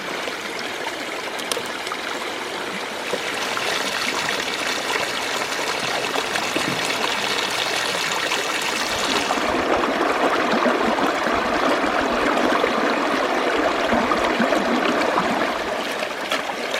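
Creek water pours and splashes steadily into a dry washer used for gold recovery, a continuous close trickling rush that grows fuller partway through, with no talking.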